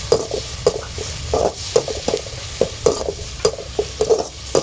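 Vegetables for sambar sautéing with turmeric in a hot pan, a low sizzle under repeated scraping strokes of a stirring spoon in an uneven rhythm, close and moderately loud, with no talk.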